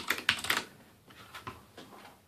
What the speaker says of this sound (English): if it hits the first switch, you'll get a clicky sound